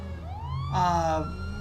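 A video game police siren wails and sweeps upward in pitch, loud and close, with a low steady engine drone underneath.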